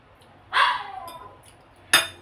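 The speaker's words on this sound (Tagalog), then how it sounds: "I'm sorry guys sa background natin kasi nandyan yung mga aso ko." Pet dogs barking in the background of a home kitchen: a short, sharp yip, a softer trailing whine, then a second sharp bark, moderately loud and slightly distant.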